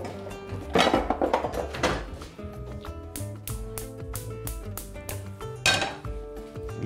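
A metal frying pan is taken out and handled in a kitchen, producing a run of close metallic clanks, knocks and scrapes, with sharper bangs near the start and again toward the end.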